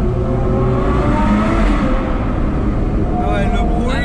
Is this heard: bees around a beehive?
no